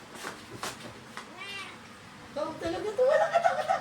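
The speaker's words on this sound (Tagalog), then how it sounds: "Yung mga pusa niyo, Ma'am Sen, maiingay" Pet cats meow noisily in a home, several harmonic cries rising and overlapping toward the end, with people talking and chattering throughout.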